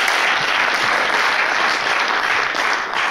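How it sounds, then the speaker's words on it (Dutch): Audience applause at a local political debate between party list leaders in Venray, a steady, dense clapping that fills the room and continues evenly for about three seconds before easing slightly at the end. "Applaus"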